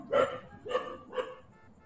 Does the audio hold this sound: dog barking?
yes